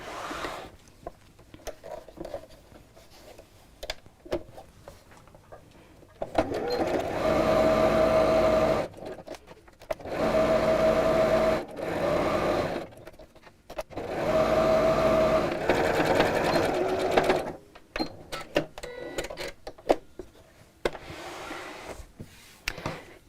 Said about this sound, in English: So I'm going to sew around the bottom three sides